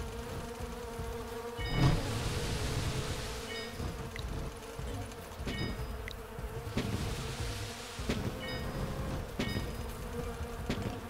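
A swarm of bees buzzes loudly and continuously in a tower-defense style video game, a dense droning hum that holds steady across the whole stretch with small swells and a few faint electronic chimes.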